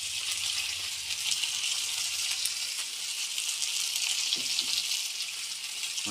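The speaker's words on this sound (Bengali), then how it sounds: "চারটা চুমা মাছ দিলাম একটু হালকা একটু ফ্রাই করবো" Steady, loud sizzling of tuna frying in a hot pan, a continuous crackling hiss that fills the whole stretch without pause.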